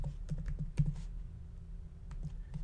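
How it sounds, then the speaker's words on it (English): A project name being typed on a computer keyboard, soft scattered key clicks in an irregular rhythm, faint and close, with no voices. "For the project name, we're going to type"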